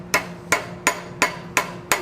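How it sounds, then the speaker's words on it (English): Six evenly spaced, sharp metallic hammer taps ring out on a forged iron door knocker bracket held in a vise at a blacksmith's bench, each strike light and crisp with a short ringing decay. "And then lightly hammer"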